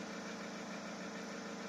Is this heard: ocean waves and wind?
no